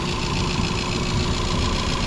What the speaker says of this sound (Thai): มาฟังเสียงเครื่องกันบ้างครับ เครื่องยนต์เดินเรียบๆนะครับคุณลูกค้าไม่มีสะดุดนะครับ